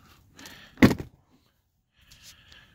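A 2013-2020 Infiniti Q50 interior door panel is pulled off its plastic clips, giving a sharp, close pop-and-thunk, with softer rustling scrapes before it and a light clatter afterward.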